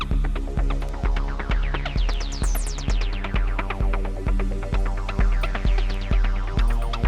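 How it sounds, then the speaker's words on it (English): Deep synthesized bass line in a music production pulses in steady, evenly spaced throbbing notes with a sliding upper tone, loud and alone with no voices. "And then let's bring in this bass line."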